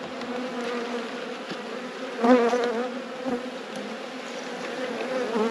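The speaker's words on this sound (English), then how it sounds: "So many bees." Many bees hum continuously around an open beehive during a late-season hive inspection, a dense, steady, close buzz that swells briefly, with no talk.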